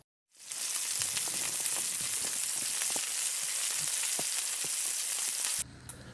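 Tandoori chicken wings sear over banked charcoal on a Flamery konro grill, a loud continuous sizzle with scattered pops and crackles, starting abruptly and dropping near the end.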